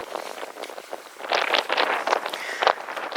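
Wind gusts across an open desert campsite on a 92-degree day, a rough, buffeting rush close to the microphone that swells louder in the second half, with no speech.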